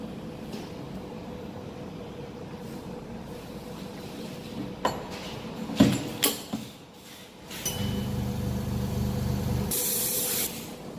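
An air bubble remover machine for an iPhone X screen lets out soft hissing and a few sharp clicks, then a steady louder whoosh of air for several seconds before cutting off.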